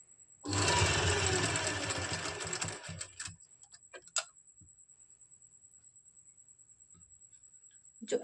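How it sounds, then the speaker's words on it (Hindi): A sewing machine stitches a fabric strip for an umbrella palazzo, running in a steady loud whir for about three seconds before stopping, followed by scattered light clicks and a soft ticking. "कट करने के बाद हम इसको स्टिच कर लेंगे।"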